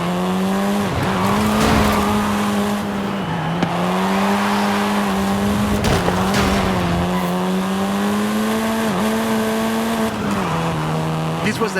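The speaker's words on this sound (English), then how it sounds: "This version is the Volkswagen Golf R," A Volkswagen Golf R driven in the video game Forza Horizon 5, steady engine drone with shifting revs and brief tire squeals, under a narrating voice.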